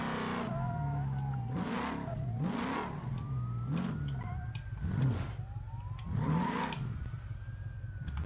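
Simulated 1st gen Cummins diesel truck engine in the BeamNG driving game, revving repeatedly in rising and falling pulses during off-roading, with a whining tone sweeping up and down over a rumbling low drone.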